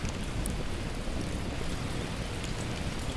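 Steady rain falling in the survival video game The Last Plague: Blight, an even hiss of rainfall that holds at a moderate level throughout with no other sounds standing out.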